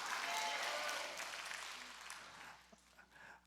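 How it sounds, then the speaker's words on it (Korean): Congregation applause fills a church service, dense broadband clapping loud at first and gradually thinning and fading over a few seconds. "박수를 더 크게 쳐보세요"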